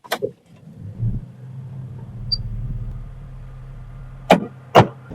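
A car drives along a dark jungle road at night in the Morni hills, its engine a steady low rumble throughout, with a few sharp bumps or knocks near the start and end.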